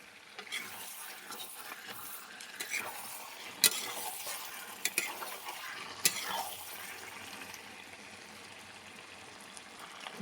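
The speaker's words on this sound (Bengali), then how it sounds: "আদা বাটাটা দিয়ে আরও 10 মিনিট আমি কষিয়ে নেব।" Chicken with ginger paste sizzles and fries steadily in a pan with occasional scraping and stirring, a few sharp clinks of a utensil against metal, close and continuous.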